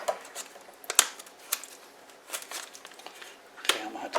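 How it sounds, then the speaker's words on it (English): A heat-sealed long-term storage bag of six-and-a-half-year-old pinto beans is cut open with faint, close crinkling plastic rustles and a few sharp snips spread over a few seconds. "So I'm going to cut it open."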